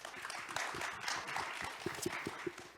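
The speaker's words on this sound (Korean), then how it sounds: "박수로 환영해 주십시오." A symposium audience gives a short, faint round of clapping to welcome a panelist, sparse individual claps over a soft background hum.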